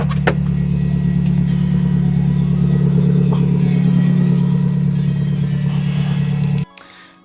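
A Toyota FRS engine runs steadily at low revs, a loud, continuous mid-pitched drone as the car is moved out of a garage, cutting off abruptly near the end.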